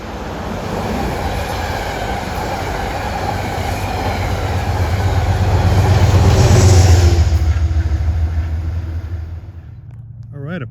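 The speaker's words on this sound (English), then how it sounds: "Approaching is 880, Poughkeepsie to Grand Central at 6:42." A Metro-North commuter train, number 880 from Poughkeepsie to Grand Central, approaches Ardsley-on-Hudson with a rumbling rail roar that swells, peaks loud and close with a wheel squeal, then fades away.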